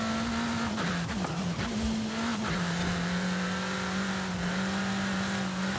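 A compact car driven in Forza Horizon 5 gives a steady, loud engine drone with a firm low tone that wavers slightly early on, then holds even as the car keeps going.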